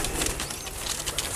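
Pigeons, including a wild one, coo and flap their wings up close among a group of kept pigeons, with soft rustling wingbeats and low coos running throughout.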